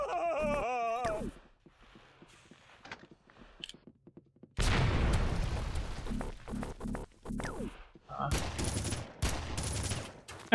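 Blasts and gunfire in the video game Red Faction, with sharp bursts and a loud, dense explosion after a quieter stretch, followed by further loud bursts near the end.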